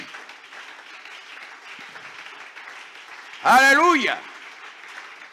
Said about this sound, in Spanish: Fuerte ese aplauso al Señor de la gloria.